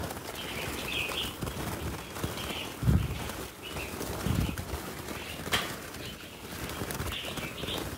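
Red-whiskered bulbuls in a group flutter and call: scattered wing flaps and rustling at close range, with repeated short bright chirps and whistles recurring every second or so among occasional thumps.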